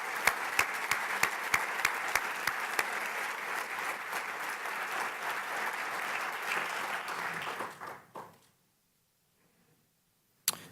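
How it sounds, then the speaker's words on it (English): An audience at an annual meeting applauds steadily, a dense wash of clapping with a few sharp nearby claps, holding for several seconds before fading out into near silence, then one brief sound at the end. "Could we give a round of applause for Noni and her team?"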